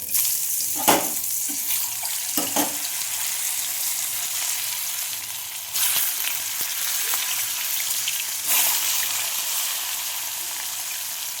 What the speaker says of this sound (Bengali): আমি এটা কড়াতে দিয়ে দিচ্ছি। কড়াইয়ে তেল গরম হয়ে গেছে।